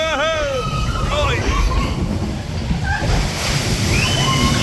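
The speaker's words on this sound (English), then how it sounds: "Oh, here comes another big drop." A log boat on Tiana's Bayou Adventure at Disneyland plunges down a big drop, with loud, rushing water and splashing throughout, mixed with riders' shrieks and voices near the start.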